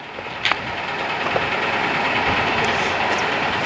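A train runs over a switched section of rail track, a loud, steady rolling rumble close by with a few sharp metallic clicks early on.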